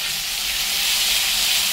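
Garlic paste frying in a pan with browned onions, a steady bright sizzle and hiss, close and continuous without any talk.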